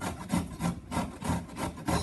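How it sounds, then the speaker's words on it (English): Fresh ginger root being rubbed across a kitchen grater gives a steady run of close, rhythmic rasping strokes, about two to three per second, with no talking over it. "you can slowly grate it from this side"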